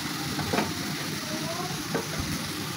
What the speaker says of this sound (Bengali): সেই ক্যাপসিকামটাও দিয়ে নেব। দিয়ে ভালো করে খানিকক্ষণ নাড়াচাড়া করতে থাকবো